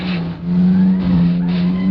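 A BMW M4 in the racing game Assetto Corsa skids out of control, with a loud steady engine drone and tire squeal that swells in repeated surges.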